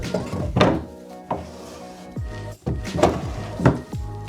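Wooden drawers under the luggage rack of a hotel room in Beppu, Japan, slide and thunk shut several times in a row, close and fairly loud, each with a hollow knock and a brief scrape.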